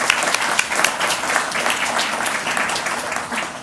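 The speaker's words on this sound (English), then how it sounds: "Let's give them a round of applause." A crowd applauds at a planting day event, a dense, steady wash of many hands clapping at close range for the whole stretch, with no voices on top.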